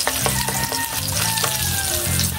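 Garlic fries in cooking oil with a loud, dense, continuous sizzle and crackle heard up close, with faint tonal hum beneath and no talking.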